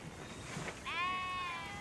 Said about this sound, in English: With them came millions of domestic sheep.